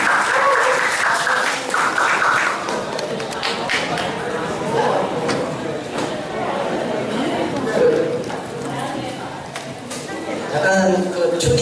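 An audience at a labor-issues talk and concert in the Gumi YMCA auditorium claps for a singer-songwriter, the applause mixed with crowd chatter and a voice speaking over it.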